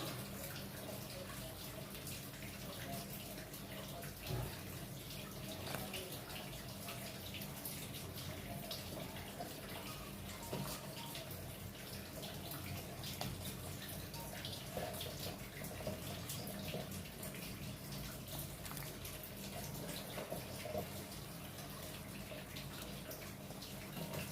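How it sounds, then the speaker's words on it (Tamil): A pot of stingray fish curry (thirukkai meen kuzhambu) boils steadily, a continuous soft bubbling and hissing simmer that stays quiet and even throughout, with no talking. "இப்போது நல்லா கொதி வந்துருச்சு."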